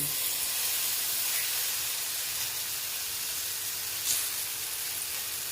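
Vegetable and wheat-flour batter for a flatbread sizzles steadily on an oiled, heated griddle, a dense continuous hiss with one brief louder crackle burst, no voices.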